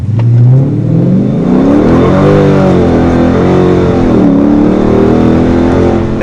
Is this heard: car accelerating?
yes